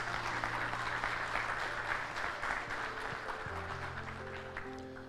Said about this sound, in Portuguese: Podemos dar uma salva de palmas